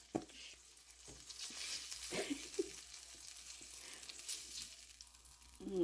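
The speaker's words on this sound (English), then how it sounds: "homemade sausage getting flipped, y'all" Homemade sausage sizzling in a pan, a soft steady fry with a few sharper crackles and clinks as the patties are flipped, quiet and close with no talking.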